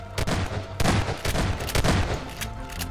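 Rapid gunfire from Garry's Mod on a horror map, a dense burst of overlapping shots and fusillade cracks running for about three seconds, loud and close throughout.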